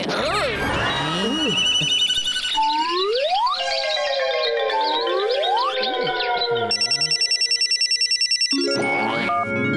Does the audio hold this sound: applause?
no